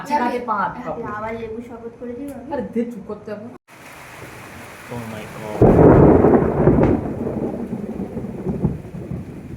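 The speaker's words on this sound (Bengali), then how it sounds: "অনেক জোরে বিদ্যুৎ চমকাচ্ছে।" Heavy rain and rumbling thunder break out during a storm, a loud broadband roar swelling in the second half, after a person talks over steady rainfall.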